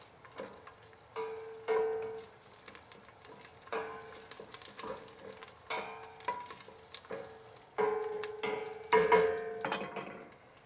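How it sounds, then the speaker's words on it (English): Garlic fries in oil at the start of a Tuscan ribollita, a kale and bread soup. Close, quiet sizzling is broken by repeated bursts of stirring and scraping in the pan. "It'll start browning, and all that beautiful garlic flavor is going to come out into the oil."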